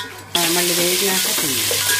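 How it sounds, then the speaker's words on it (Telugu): Onions hit hot oil for biryani with an abrupt loud sizzle that continues steadily, close up, with a few stirring scrapes. "కలర్ వచ్చే వరకు ఉల్లిపాయ వేయించుకోవాలి"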